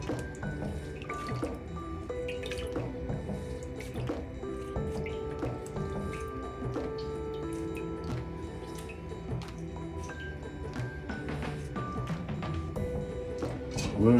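Wet fuzzy ear pads from Beyerdynamic DT series headphones are squeezed by hand, giving steady dripping, squishing and trickling water close up that runs on without a break for over ten seconds.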